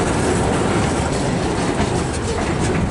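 A freight train of loaded grain cars rolls past close by, a loud continuous rumble with rattling wheels and clattering couplings filling the whole stretch.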